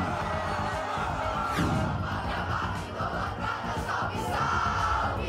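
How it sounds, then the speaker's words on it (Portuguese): A stadium-style crowd of football fans erupts for Brazil during a World Cup match, a loud, sustained roar of cheers and shouts with rising whoops, steady throughout and close. "E a explosão da torcida pelo Brasil."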